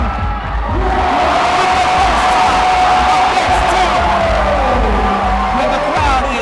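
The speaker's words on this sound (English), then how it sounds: "And the crowd is pumped." Spectators at a USA Climbing competition cheer and yell loudly and continuously, a dense roaring crowd close by with whoops rising over the din, while a commentator's voice runs beneath.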